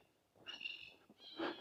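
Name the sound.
black cockatoos calling in the trees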